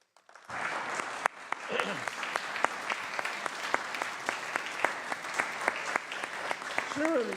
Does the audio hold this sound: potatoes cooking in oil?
no